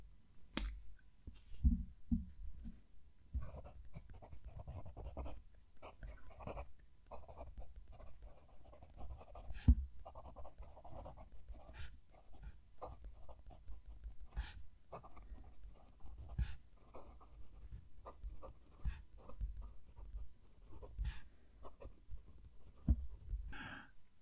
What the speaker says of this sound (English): as the pen's going over the paper, there's no scratchiness to it